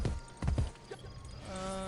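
Hooves of a horse in an Assassin's Creed game strike twice in quick, close clip-clop beats, then fade into a quieter game backdrop with a faint tonal hum.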